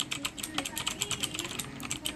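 Fast typing on an Aula Mechanical King mechanical keyboard produces a close, steady stream of crisp key clicks in an irregular rhythm, with no one speaking.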